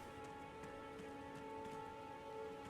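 Rain falling in the video game Elden Ring makes a soft, steady hiss, faint and continuous, with a low sustained musical drone beneath it.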